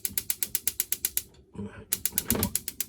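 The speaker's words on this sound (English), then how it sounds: "to turn on the cooker, it's got an ignition. You hold that down" Gas cooker ignition button held down in a motorhome, a rapid, steady run of sharp clicks, a brief pause, then the clicking resumes, heard close up.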